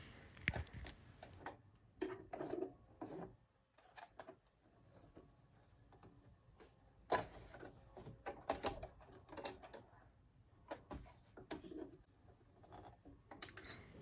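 A sewing machine stitches along the bottom hem of a fabric face mask, producing quiet, intermittent bursts of rapid mechanical ticking with short pauses between runs.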